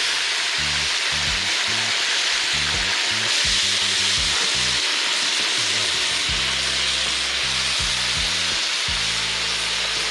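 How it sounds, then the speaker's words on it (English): Pork added to a hot pot at an outdoor river party, giving a loud, continuous, close sizzle and frying hiss with faint stirring and a low rhythmic background beat. "And we are adding the pork."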